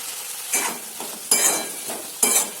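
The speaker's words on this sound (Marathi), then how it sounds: "आता हे सगळं फक्त तेलात छान शिजू द्यायचं" Vegetables with a small potato cooking in oil in a kadai, short bursts of sizzling as they are stirred, three distinct surges over a softer constant fry, close and alone.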